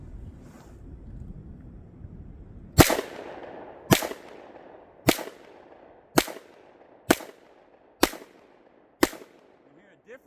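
Seven sharp 10mm gunshots from a Sig X-Ten pistol firing Fort Scott 2E 120-grain ammo, spaced about a second apart, loud and close with short echoing tails after a quiet start.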